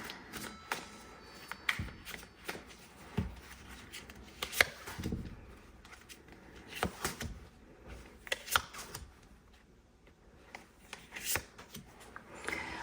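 Tarot cards are shuffled and riffled over and over, a run of crisp close flutters and soft slaps with no speech.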